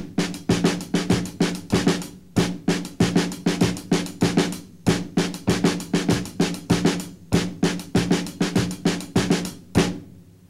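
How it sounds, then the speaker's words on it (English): Snare drum and hi-hat struck together as flat flams in a steady rhythmic pattern, sharp close hits repeating in phrases with brief pauses between them. "What I'll do now is play them as flat flams, playing both those hands together"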